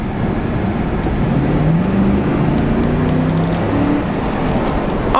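A Chrysler Aspen Limited with a HEMI V8 and about 200,000 miles, its engine revving under throttle: a steady, loud low rumble with a rising tone swelling through the middle, heard alone and continuous throughout.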